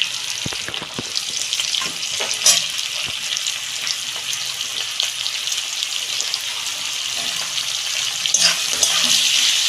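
Onions frying in a pan for a mutton curry, a steady bright sizzle that holds throughout with occasional stirring clatters, close and fairly loud, no talking.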